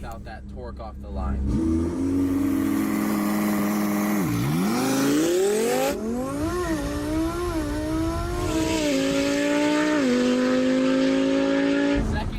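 A Lamborghini accelerating hard without the slingshot launch, its engine climbing loudly through the revs with gear-change dips and rising again, close and dominant, with voices talking over it.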